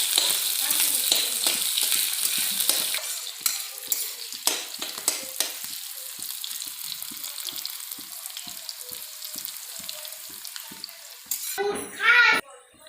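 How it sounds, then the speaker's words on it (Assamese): Sliced onions and green chillies sizzle in hot oil in a pan while being stirred with a spatula for a pumpkin dish, loud frying at first that gradually quietens, with repeated scraping strokes and a brief clatter near the end. "এইখিনি ভালকৈ ভাজি ল'ব।"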